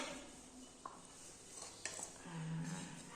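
A spoon stirs tomato and potato curry in a small toy cooking pot, a few faint scrapes and light clinks spread out over quiet.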